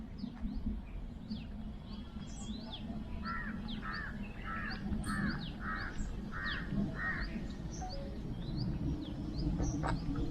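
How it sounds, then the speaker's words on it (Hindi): Birds call in a forest at Bhedaghat near Jabalpur, a run of repeated chirps and a crow-like caw over a steady low outdoor rumble. "यहाँ अगर थोड़ी देर शांति से बैठे ना तो चिड़ियों की"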